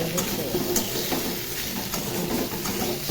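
Ridge gourd pieces fry in a pan for a light rohu fish curry with vegetables, giving a continuous close sizzle with scraping stirring sounds mixed through it.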